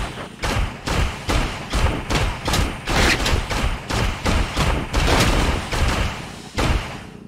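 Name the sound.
gunshots hitting a vehicle in the BeamNG.drive video game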